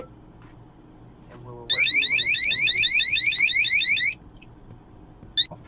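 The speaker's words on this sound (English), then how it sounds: "when these get wet, or when the sensor here gets wet, you'll get an alarm sound like such" A water leak sensor alarm beeps loudly and rapidly for about two and a half seconds, then cuts off, with faint background noise before and after.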